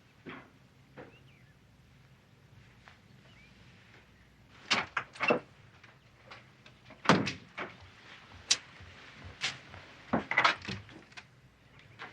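A door in an old western film is rattled and banged: a series of sharp, irregular knocks and thuds arrives in loose clusters over a quiet background, with no voices.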